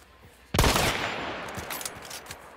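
A sudden loud burst of gunfire in the video game Hunt: Showdown erupts, then trails off into a sustained rumbling echo with scattered smaller pops.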